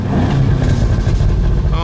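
A 2024 Cadillac CT5-V Blackwing engine revs hard in a loud, steady roar that holds near the rev limiter for about two seconds.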